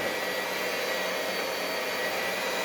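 An electric hand mixer whirs steadily through cheesecake batter, a loud, even, broadband motor hum with no break and no talking.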